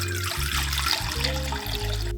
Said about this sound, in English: Into our mixing bowl goes 350 grams of warm water